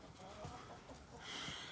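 Chickens cluck in a winter garden at a house in Tiraspol, a few soft, scattered clucks heard at a moderate distance.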